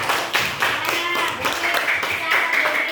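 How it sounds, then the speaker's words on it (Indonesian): A school class claps for a classmate, many hands beating together in a steady, dense patter that carries on throughout. "Berikan tepuk tangan untuk Patria."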